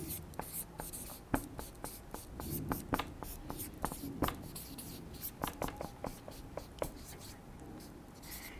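A pen writing by hand on paper in a teacher's planner, a soft scratchy scribble with small taps and strokes throughout, close and quiet.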